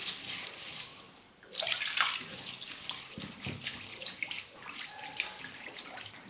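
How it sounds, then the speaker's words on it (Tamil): Thick flattened rice (aval) is rinsed by hand in a bowl of water, with close splashing, sloshing and trickling that swells after a brief lull and continues unevenly throughout, no voices. "இப்போ தண்ணி சேர்த்துட்டு ஒரு 2-3 முறை நல்லா அலசி எடுத்துக்கலாம்."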